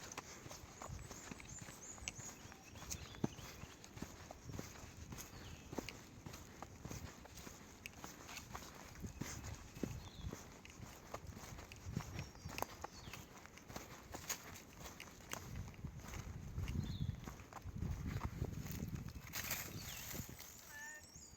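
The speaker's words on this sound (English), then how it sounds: "More horses on the Appalachian Trail." Horses plod past on the Appalachian Trail, hooves thudding irregularly over dirt and rock, fairly close, with some quiet talk and outdoor noise around them.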